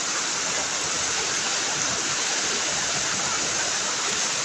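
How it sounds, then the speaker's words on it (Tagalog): Heavy rain pours without letup, a dense, steady roar of falling water with runoff rushing alongside, loud and unbroken throughout, no voices. "Tuloy-tuloy pa rin ang ulan."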